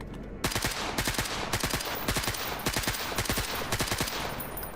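Fully automatic gunfire in the shooter GAMMA, rapid bursts of loud close shots in a steady rhythm with short gaps between strings, filling the whole stretch.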